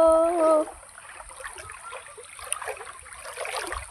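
River water rushes and splashes as people wade across a river. A voice speaks briefly at the start, and the flowing, gurgling water continues steadily afterward.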